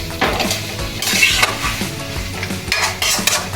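Cashew paste frying in oil is stirred steadily in a pan, giving a loud, close sizzle with repeated scraping sweeps and occasional metallic knocks of the spoon.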